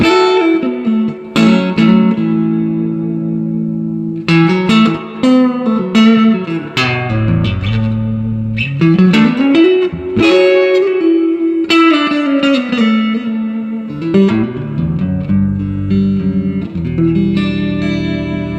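Clean electric guitar played through a Stovall DR-22 amp with reverb set around a quarter, a loud, ringing run of picked chords and notes with a subtle ambient tail and no talking.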